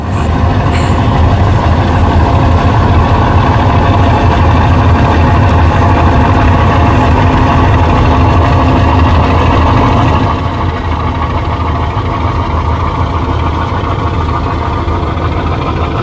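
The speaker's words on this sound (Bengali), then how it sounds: "উইচা ইঞ্জিনের কী আওয়াজ বলবো এটারে, খটর খটর খটর খটর এই আওয়াজটা" Launch Farhan 7 pulling away from the Barishal river terminal in reverse, its heavy diesel engine rumbling steadily and loudly up close, with a coarse rattling throb that continues throughout and eases slightly near the end.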